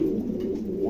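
A pet pigeon from a pair offered for sale gives a short, low, steady coo, close and alone.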